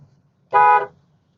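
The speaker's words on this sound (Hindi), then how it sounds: "ये मैंने हॉर्न लगा दिया ताकि वो लेफ्ट जाए।" A car horn sounds once, a short, loud honk of about half a second, while the driver overtakes another vehicle on the road. Quiet engine rumble runs underneath.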